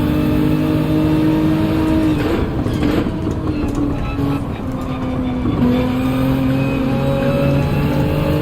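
A Toyota Supra race car in Gran Turismo drones with a steady engine note and shifting pitch, mixed with other cars' engines throughout a close, continuous racing soundscape.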